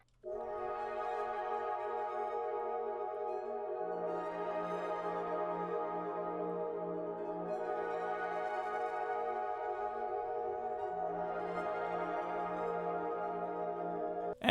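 A simple chord progression built in FL Studio: steady sustained synth chords shifting every few seconds over a low held bass, smooth and continuous at moderate level with no drums or voices.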